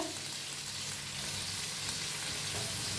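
Chopped fenugreek leaves with salt sizzling and frying in a pan while being stirred, a steady close crackle with no talk.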